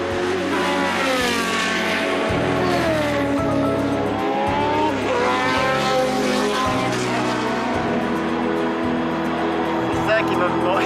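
Formula 1 race cars screaming past during qualifying at the Spa circuit, seen from the Alpine pit garage, with high engine whines rising and falling as cars pass, loud and continuous under music and a talking voice.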